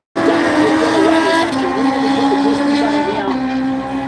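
Loud, steady roar of high-revving drag racing engines building revs on the two-step at the start, sustained throughout with a slight wavering pitch, close and dominant.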